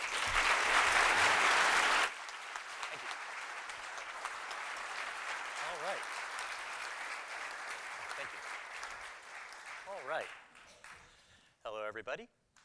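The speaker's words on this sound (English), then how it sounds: "So let's give a round of applause to Andy Weir." Audience applause for an author at a science talk, a dense burst of clapping for about two seconds that then thins and carries on more faintly with crowd noise and some talk, ending in a few scattered sounds.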